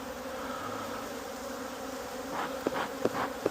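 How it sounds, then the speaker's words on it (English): Many honeybees around an open hive hum and buzz in a dense, steady drone close by, with a few sharper buzzing passes near the end. "shake some bees out of the way"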